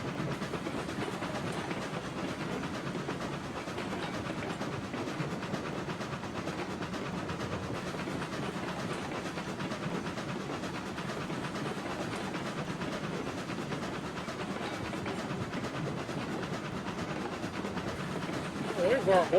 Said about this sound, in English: There's our ore train.